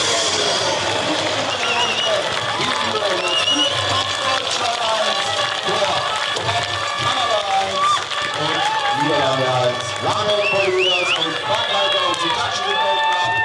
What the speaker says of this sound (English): listen to this crowd cheering their great German champion